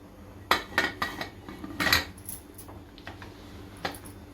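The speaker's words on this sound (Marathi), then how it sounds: "आपण झाकण लावूया आता" A few sharp metallic clanks and clatters of a lid being fitted onto a pressure cooker of chicken curry, close by, with quiet pauses between them.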